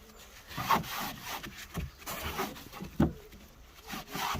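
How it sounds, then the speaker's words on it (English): Rough, intermittent rubbing and squeaking as a cloth wipes handprints off a car windscreen glass, a series of short close strokes with uneven rhythm and no talk. "I'm just going to clean the glass."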